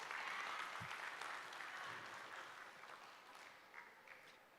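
An audience at a Hyderabad economic talk on retail gives soft, scattered claps, a quiet patter of applause that slowly thins out.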